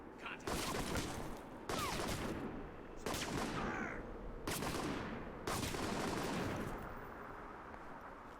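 Enemy gunfire in the action game Alpha Protocol, five loud bursts of rapid automatic shots spaced about a second apart, with quieter ambience between volleys.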